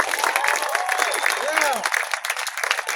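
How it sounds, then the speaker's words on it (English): Audience applause at a marching band family and friends introduction, steady dense clapping throughout, mixed with cheering voices and whoops that rise and fall. "So let's give them one more round of applause."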